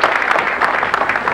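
Audience clapping for a group of children from Japan dressed in traditional clothing at an Indonesian children's show, a brisk, dense clatter of applause, loud and near, with no speech.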